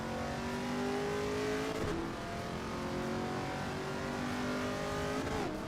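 A Camaro race car in Assetto Corsa Evo holds a loud, steady engine drone with shifting revs and brief gear-change dips, with no voices over it.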